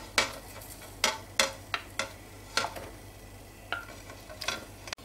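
Turkey involtini cook in a pot with onion, bay leaf and juniper, a soft sizzle beneath repeated sharp clinks and scrapes of a utensil against the pot, loud and close.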